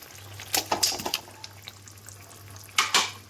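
Fried katla fish pieces are dropped into a simmering onion curry, producing several soft splashes and pan clatters in two short clusters over a low, steady bubbling hum, with no voices.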